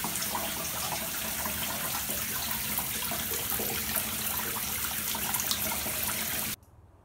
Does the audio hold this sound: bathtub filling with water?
yes